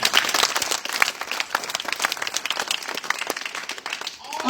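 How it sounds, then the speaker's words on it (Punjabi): Audience applause at a farmer-oriented event, a lively burst of close crowd clapping that carries steadily through the moment with scattered louder claps. "ਤੁਹਾਡੀ ਤਾਲੀਆਂ ਦੀ ਗੂੰਜ ਤਸ਼ਰੀਫ ਲਿਆਂਦਾ"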